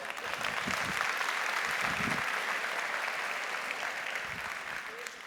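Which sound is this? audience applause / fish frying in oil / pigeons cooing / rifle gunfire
audience applause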